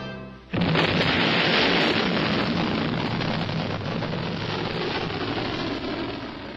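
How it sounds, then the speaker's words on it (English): Polaris A-1 ballistic missile fired from the submarine USS Ethan Allen at the Pacific nuclear test range in 1962, a sudden loud roaring blast that holds as a sustained broadband rumble. "The ballistic missile-firing submarine USS Ethan Allen launched into the Pacific nuclear test range a fully armed Polaris A-1 missile."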